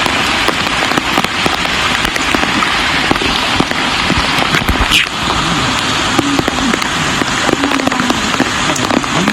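Heavy rain pours down steadily in Udupi, Karnataka, during severe flooding, a loud, dense hiss that stays constant from start to finish with scattered sharper splashes and knocks close by.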